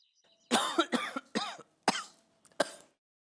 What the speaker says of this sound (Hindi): ओहो, इतना खांस रहे हो पर डॉक्टर के पास अभी तक क्यों नहीं गए आप?